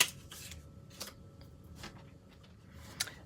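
Scissors cut paper for a handmade folded card. Several soft, brief snips are spaced out over a faint background hiss, close and quiet, with no voices.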